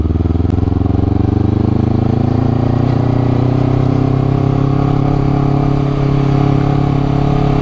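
Honda CBR250RR 2019 motorcycle engine pulling uphill in third gear around 4000 rpm, a loud steady close droning hum with slowly rising pitch, alone without talk.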